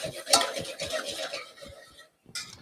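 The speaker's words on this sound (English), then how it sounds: "You can hear them sizzling a little bit." Garlic, onions and carrots sizzle softly in a pan as they are stirred, with rhythmic scraping and clinks of a utensil against the cookware, a short pause, then more stirring.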